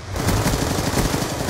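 SMG fire in a Call of Duty 2v2 SMGs-only match: a short, continuous rapid rattle of close, loud shots pressed against dense game noise, with no talking.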